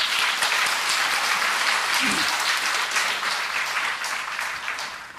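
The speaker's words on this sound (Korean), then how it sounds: "다시 한번 박수 한번." A Korean church congregation applauds inside the sanctuary, loud continuous clapping that stays full for several seconds, with a brief voice mid-way, then slowly tapers toward the end.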